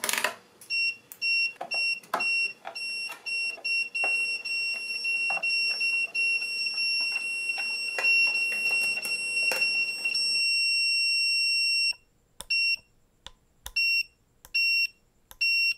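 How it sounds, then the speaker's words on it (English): Multimeter on continuity setting beeps while connections are checked: a steady tone with rapid clicks, then short intermittent beeps at irregular intervals, close and clear with no talking. "using a multimeter on the continuity setting and checking every connection on your schematic"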